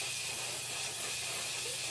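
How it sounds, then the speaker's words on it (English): A can of makeup setting spray hisses in one continuous, close, steady aerosol burst with no pauses or voices. "So I'm just gonna hold my breath and spray this."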